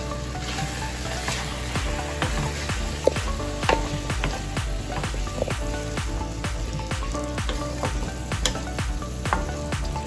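Cleaned prawns hit a hot frying pan in a prawn and ridge gourd curry, giving a continuous close sizzle, with regular metallic scrapes and taps of a stirring utensil against the pan.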